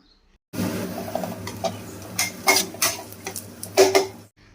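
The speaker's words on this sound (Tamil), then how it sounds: "நல்லா வெங்காயம் ப்ரௌனிஷ் ஆகிற வரைக்கும் நல்லா வதக்கிக்கலாம்" Onions with ginger and garlic being sautéed in a pan: a quiet low hum under irregular spatula scrapes and metallic clatters that come in short bursts, close and moderately loud, ending in silence, with no one talking.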